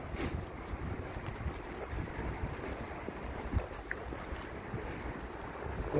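A steady broad rush of distant highway traffic blends with wind and sea surf in Lazarevskoye, a continuous low wash with no voices.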